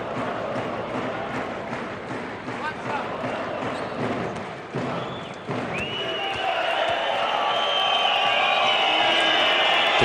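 Home crowd in a Moscow basketball arena roars during a game, a steady wash of cheering that swells louder in the second half, with a commentator talking over it.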